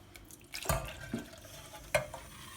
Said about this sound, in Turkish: Şimdi yarım litre sütümüzü ilave ediyoruz. Ve onunla beraber de diğer malzemelerimizi güzelce karıştıracağız